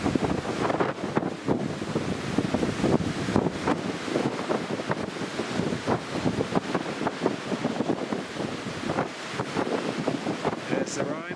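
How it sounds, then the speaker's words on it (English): Strong gusting wind from Storm Otto at an airport buffets the microphone with loud, continuous rushing and roaring. A voice speaks intermittently underneath. "even though it's very, very windy."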